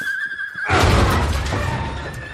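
Horses in a battle setting give a loud, close whinny that rises out of a quieter stretch and carries on to the end of the sound.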